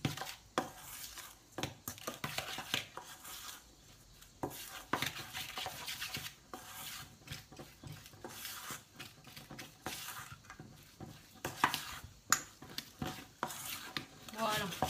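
A spoon stirs cake batter made with almond powder in a bowl, giving a continuous run of soft scraping and tapping against the sides, close and moderately quiet.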